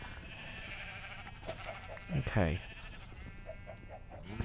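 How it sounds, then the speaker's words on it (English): Blocky sheep in the Minecraft video game let out a short, wavering bleat while being sheared, under a man's quiet speech and faint game sounds. "I'm just gonna shear sheep and make words"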